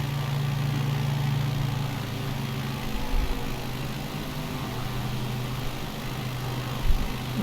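Steady aircraft engine drone from a bush plane in Microsoft Flight Simulator 2020 over Yosemite at nearly 3,000 feet, a constant mid-low hum with a couple of brief thumps.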